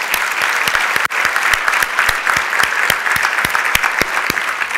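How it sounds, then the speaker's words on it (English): At a Martin Luther King Jr. Day celebration, an audience claps warmly in a loud, close stream of crisp individual claps that holds steady without any voices. "So let's give them all a warm round of applause."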